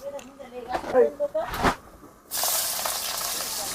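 Cumin and mustard seeds drop into hot oil to temper a smoky roasted-eggplant bharit at Sinhagad fort; after a stretch of talking, a sudden loud, steady sizzle takes over and hisses evenly to the end.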